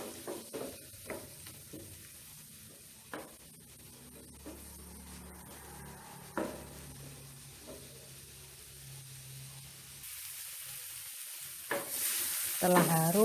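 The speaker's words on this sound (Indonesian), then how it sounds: "Aduk-aduk ya teman-teman biar tidak gosong." Galangal, ginger, bay leaves, lime leaves and lemongrass are stir-fried in a wok for clear chicken soto, with soft sizzling under sparse stirring scrapes and clanks, growing louder near the end.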